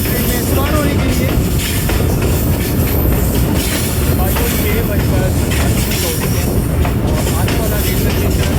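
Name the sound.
passenger train stopping at a railway station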